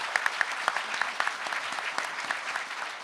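Applause for panelists at a science journalism anniversary panel, a steady crowd of clapping hands with sharp individual claps standing out, fairly close and continuous for the whole stretch.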